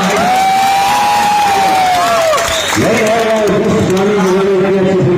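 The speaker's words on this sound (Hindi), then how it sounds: "रजनीश मिश्रा के नाम में जोरदार ताली लगाइए" Fans in a cinema hall cheer and applaud loudly for a Bhojpuri film star, with continuous clapping, rising whoops and whistle-like shouts packed together close and dense throughout.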